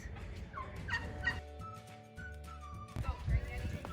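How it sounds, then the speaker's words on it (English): Turkeys and other fowl gobble and call on a muddy farm, several loud calls close by, with people talking over them. "Here we have some chickens."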